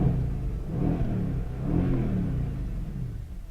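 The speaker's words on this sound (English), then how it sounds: "I'm going to just rev it again" A car engine revs up twice in a low, rumbling swell, each rise easing back to a throaty idle, close and without talk.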